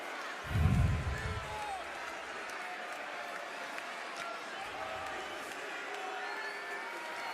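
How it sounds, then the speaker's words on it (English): A WWE Backlash arena crowd in St. Louis boos John Cena, heard as a distant, steady roar with one louder swell near the start, under someone talking. "Why are they still booing?"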